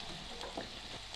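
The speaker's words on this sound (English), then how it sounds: "We mix everything well." Soft scraping and sloshing of a spoon stirring beans in a saucepan, continuous and close, with a faint sizzle underneath.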